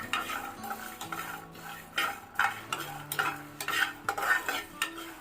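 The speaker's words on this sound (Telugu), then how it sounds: "దీనిలోనే ఇప్పుడు హాఫ్ స్పూన్ గసగసాలు కూడా వేస్తున్నాను ఇవి కూడా వేయించుకుందాం" Half a spoon of poppy seeds toasting in a pan alongside sesame seeds, a soft dry crackle under repeated spatula scrapes and stirring strokes, quiet and close with a faint background hum.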